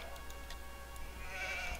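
Sheep bleating in Age of Empires II, a short, faint wavering bleat over a low game background hum, with a few light ticks and no voices heard.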